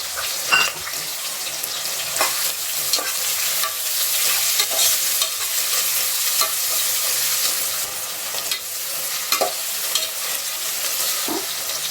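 Chopped onions sauté in a pan with tempering spices as the base for a mutton kurma, giving a steady close sizzle throughout, punctuated by occasional stirring scrapes and clinks, with no talking.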